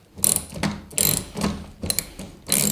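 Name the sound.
ratcheting tool tightening a screw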